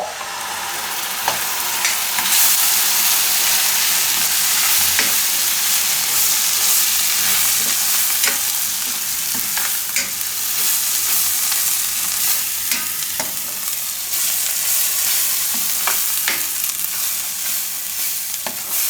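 Cumin and asafoetida sizzle loudly in hot oil with occasional stirring scrapes, a steady frying hiss that runs continuously.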